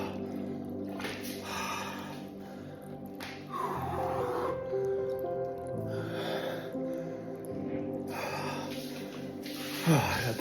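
Someone lowering into a cold ice bath takes sharp, loud gasping breaths and snorts in several bursts, with faint water movement between them.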